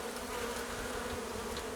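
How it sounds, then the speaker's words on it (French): Honey bees buzz continuously around hive frames in a field apiary, a dense close hum of many insects with no voices. "J'ai laissé les 2 cadres, les cadres où j'ai mis les abeilles dessus."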